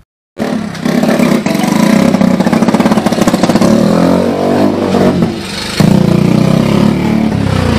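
A homemade motorbike built from scrap parts runs loud and close, its engine droning steadily with a brief dip and then a fresh surge of revs; no one speaks.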